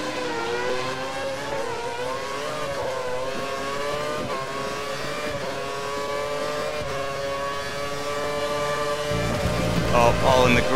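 Formula 1 race car engines in the F1 2013 video game drone at high revs with a steady rising whine, growing louder near the end as more cars close in.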